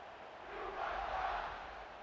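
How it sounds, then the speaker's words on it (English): Stadium crowd at a college football game roaring after a touchdown drive, a broad steady cheer that swells in the middle and holds at moderate loudness with no talk over it. "this crowd is feeling themselves after that last drive"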